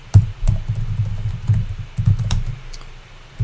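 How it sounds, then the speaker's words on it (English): Quick, loud bursts of typing on a computer keyboard, close up, in uneven clusters of clicks with short pauses between, alone without talk. "typing too fast"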